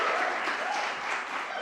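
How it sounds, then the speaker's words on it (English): An audience at a Piper's Céilidh on Christmas Island claps for a piper, steady dense applause that fades slightly toward the end. "So thanks for the round of applause."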